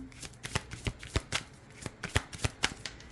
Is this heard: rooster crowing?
no